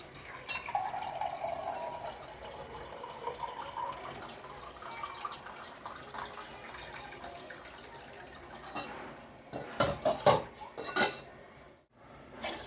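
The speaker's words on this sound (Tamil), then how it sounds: "இதை கப்பில் 2 கப் தண்ணி ஊற்றிருக்கேன்" Two cups of water poured into a cooking pot for tomato rice, a soft liquid splash and trickle with light clinks of the pot and cup, ending in a few sharper clatters.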